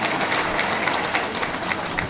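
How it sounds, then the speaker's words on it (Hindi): Audience applause at a poetry recital in Nanded: dense, steady clapping from a crowd that fills the whole short stretch at an even loudness, with no voices over it. "एक मरतबा तालियां बजाएं"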